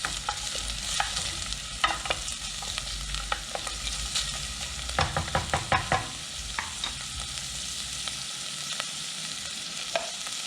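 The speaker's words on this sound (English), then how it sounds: "Then we'll add the onion. Give it a real quick stir." Onion frying in a pot for a curried lentil, tomato and coconut soup, a steady sizzle with a quick run of spoon stirs and taps clustered midway, close and moderately loud.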